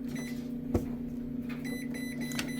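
A microwave oven heating a bowl of steel cut oats drones with a steady, close electrical hum, joined by a single thump partway through and a few faint beeps near the end.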